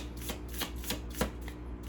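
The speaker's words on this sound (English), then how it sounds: "I pre-shuffle the deck as I'm burning like sage." A tarot deck being shuffled by hand, close up, with a steady rhythm of soft riffling swishes about every third of a second.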